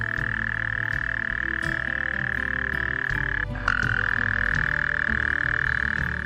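A loud, steady croaking trill from a toad in dense forest goes on almost unbroken, pausing briefly midway before resuming, over a low background of other night creatures.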